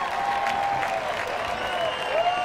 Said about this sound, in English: giving a stirring ovation to their hometown team